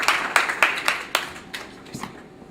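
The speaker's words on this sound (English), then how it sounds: "So we'll give a round of applause for Lucy Sievers." A small meeting audience claps briefly, a sparse scattering of individual handclaps that thins out and fades within a couple of seconds.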